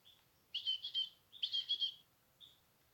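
A baby bird chirps while being hand-fed a pasty mash from a toothpick: two quick bursts of rapid, high, close chirps, then a single short peep, with no talking.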